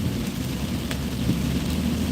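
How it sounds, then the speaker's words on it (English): Rain shaken loose from overhead tree limbs patters onto a car roof as it passes beneath, a steady dense drip with a few sharper drop hits over low rumbling road and wind noise. "That is the raindrops falling off the tree limbs when I drive under the tree."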